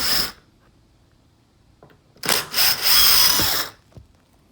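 A power driver spins Torx T25 and T30 screws out of the underbody cover on a 2006 VW Golf 1.9 TDI, giving a short whir near the start and then a longer stuttering burst of close, loud whining, with quiet gaps between.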